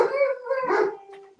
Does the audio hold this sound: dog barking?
yes